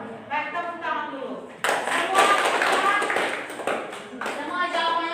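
Students clap together in a chemistry classroom, a burst of rapid group clapping breaking in after a voice and running several seconds before talk resumes alongside it.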